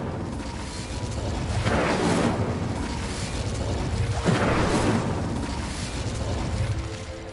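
Incendio fire spell cast in a Hogwarts video game, heard as two loud whooshing bursts of flame a couple of seconds apart over a rumbling low background, with no talk.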